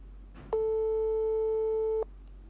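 A single steady ring of a telephone call placed during a Congolese prophet's broadcast, a clean electronic tone lasting about a second and a half, loud and alone over low hum.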